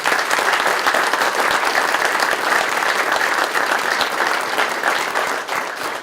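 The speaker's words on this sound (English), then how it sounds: "Please put your round of applause together for Community Trust Bank and Appalachian Wireless." An audience claps at a ribbon cutting ceremony marking the renaming of the Appalachian Wireless Arena, dense steady applause from a crowd throughout, tapering slightly at the very end.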